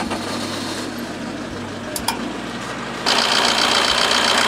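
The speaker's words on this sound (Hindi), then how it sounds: "सबसे पहले आप जो है बोनेट को खोलेंगे और इंजन को स्टार्ट करेंगे" A used car's engine runs at idle with the bonnet open, a steady mechanical hum and clatter that grows louder and brighter partway through, close by with no speech over it.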